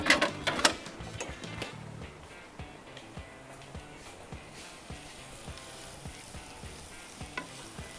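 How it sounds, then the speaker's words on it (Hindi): Sliced onions sautéing in sesame oil in a pan, a soft continuous sizzle with light stirring scrapes and taps, close but fairly quiet, louder clatter at the very start. "सबसे पहले आपने तिल के तेल में प्याज को अच्छी तरह सौटे करना है"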